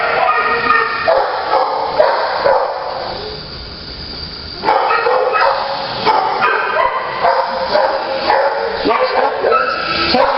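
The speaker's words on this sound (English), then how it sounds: "This is a high energy dog." A high-energy dog yips and barks in short, irregular bursts at close range, mixed with whimpers over a steady background.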